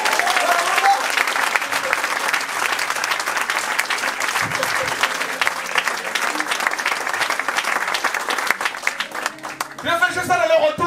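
A church congregation applauding loudly and continuously, dense clapping filling the room, with a voice speaking near the end.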